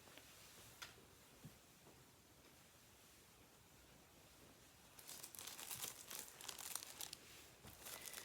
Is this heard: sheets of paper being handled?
yes